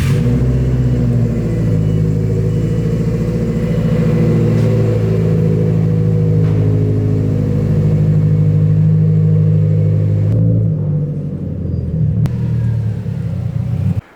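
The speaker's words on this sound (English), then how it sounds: "But let's get ourselves a nice old cold start." A Subaru STI engine cold-starting and settling into a loud, steady, rumbling idle that holds close and unbroken before dipping near the end, with no voices over it.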